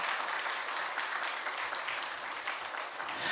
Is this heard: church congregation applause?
yes